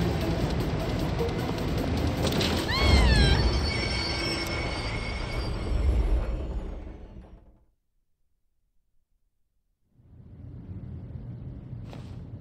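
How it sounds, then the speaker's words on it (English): A monorail train in the Persona 3 Reload video game rumbles along loudly with a rising wheel squeal, cuts to near silence for a couple of seconds, then resumes its steady running noise. "You're coming up on the next train fast! Damn it! I don't know how to stop this thing!"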